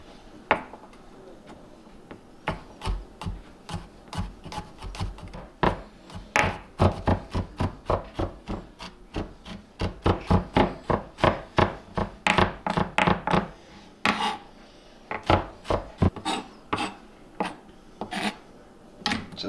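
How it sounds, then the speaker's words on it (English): A knife chops and minces garlic on a wooden board, trout dish prep, with rapid uneven rhythmic knocks that speed into dense bursts, loud and close, no talking. "Basically what you're going to do is just chunk up your garlic and mince it"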